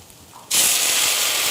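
A pan of lentils sweated in butter is deglazed with liquid. After a quiet moment a sudden loud hissing sizzle bursts up and carries on steadily and close.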